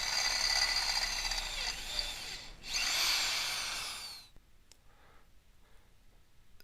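A power drill with a 3/16 inch bit bores a hole while fitting a boom vang on an American Sail 14.6 sailboat, whining loudly and steadily for about four seconds with a brief pause before it stops, leaving quiet handling noise.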